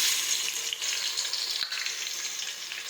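Crushed garlic sizzles in hot oil while undhiyu is being cooked, giving a steady, close hiss throughout with a brief crackle partway and no voices.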